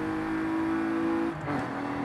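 Toyota Camry in Forza Horizon 5 revving hard as it accelerates, a steady loud engine tone that climbs, then drops briefly around a gear change before pulling again, with no talk.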